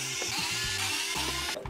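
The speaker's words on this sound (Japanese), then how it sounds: "さらに追加でこの2本のネジも外します。" Screws are taken out while a KENWOOD MDX-G3 CD/MD radio cassette boombox is disassembled, giving a quick run of close, small ratcheting and whirring tool sounds in short repeated bursts.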